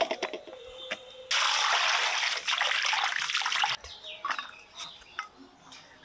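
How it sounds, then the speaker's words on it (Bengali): Chicken pieces for a spicy chicken curry are washed under a running kitchen tap, a steady splashing gush for a couple of seconds at close range, bracketed by scattered clinks and handling noises, with no talking. "এবার পরিষ্কার করে ধুয়ে নিয়ে আসি।"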